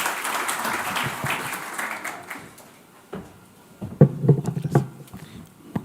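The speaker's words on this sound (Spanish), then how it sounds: "un aplauso para él" Seminar attendees at a pensions reform event applaud the pensions superintendent as he is welcomed. The clapping is moderate and fades within a few seconds, leaving a few scattered claps and taps.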